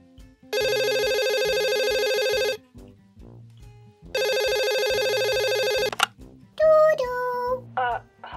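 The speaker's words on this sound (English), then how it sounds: "Grace, what are you doing answering the phone?" A telephone rings in two long electronic bursts separated by a pause, loud and close, followed by brief tones and chirps as the line is picked up.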